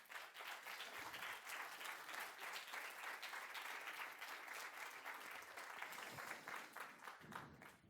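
Sustained audience applause in the French National Assembly for participants after a speech on defending animals, dense steady clapping throughout, easing slightly near the end.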